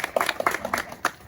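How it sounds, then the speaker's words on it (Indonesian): A few participants in a physical education teaching session give a short burst of clapping, quick uneven claps heard close by. "Tepuk tangan dong ini"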